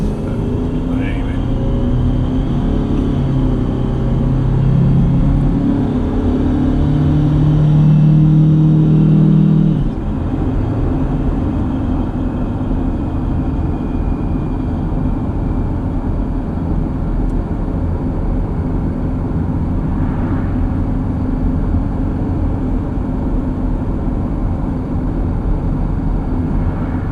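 A Detroit 4-53TIB turbocharged diesel engine warms up after a cold start with a steady, close low rumble. It swells slightly in the first several seconds, then settles into an even, continuous run.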